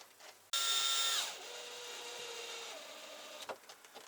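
A screw driven by a power drill into a camper-van skylight fly screen, a loud close whir that drops in pitch as it bites and continues steadily before stopping with a few small clicks.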